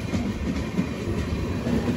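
An SMVT Bengaluru–Kanpur Central express being overtaken by another train, a faint continuous rumble of rolling rail cars with light clattering of wheels on track.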